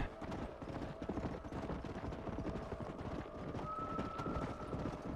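Horse hooves clip-clop steadily at a trot in the Red Dead Redemption video game, a dense rhythmic patter mixed with other in-game ambience and a faint whinny-like tone near the end.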